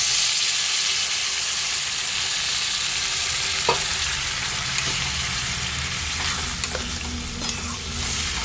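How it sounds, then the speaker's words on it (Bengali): Chili soybean frying in a pan after a splash of water, a steady broad sizzle and hiss throughout with a few faint stirring clicks and scrapes, close and continuous with no talking. "এরপর একটু জল অ্যাড করে দেবো"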